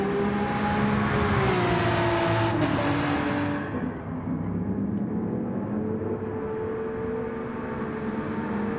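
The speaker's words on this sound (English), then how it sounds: "The Marlboro Porsche going through this turn." A Porsche touring race car in a racing video game at the Nürburgring GP circuit, its engine droning loudly and shifting pitch, then easing off and fading into a lower, steadier whine.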